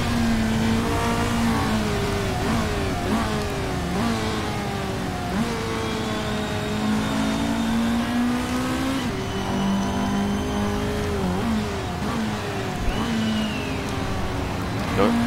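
Race cars in the Motorsport Manager game accelerating in a GT Challenger series race, a continuous loud whine of several engines rising and falling in pitch throughout, with a voice talking over it.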